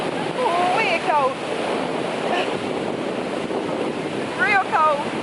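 Cold wind buffeting the microphone on a beach with surf rolling behind, a constant loud roar, while a voice exclaims and squeals over it.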